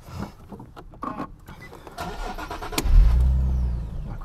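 A car's engine cranks and catches after some handling and clicks inside the car, then settles into a steady close idle hum, with no talk.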